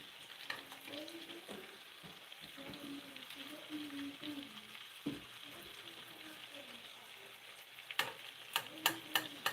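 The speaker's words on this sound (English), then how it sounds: "I will keep it on the fire, just turn it down, and just keep basting it with the sauce" Steak sizzles and fries over a turned-down flame as it is basted with sauce, a quiet steady crackle with soft stirring clicks, plus a few sharper ticks near the end.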